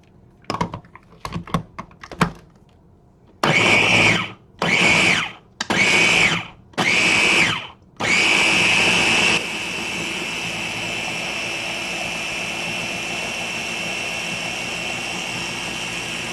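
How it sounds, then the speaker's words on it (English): A countertop blender whirs through a plant-based cheese sauce of nutritional yeast and water, starting with a few taps, then four short loud pulses, followed by one long steady high-pitched run that settles into a continuous lower drone. "Going to blend this up."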